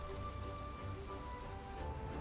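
A Hailstorm spell in Divinity Original Sin 2 makes a dense, continuous patter like heavy rain or hail striking a surface, steady and unbroken for the whole moment.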